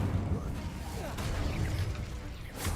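A fire spell cast during a Hogwarts Legacy battle: a dense, steady roar of crackling blasts and low rumbling impacts, with a brighter rushing burst near the end, loud and close throughout.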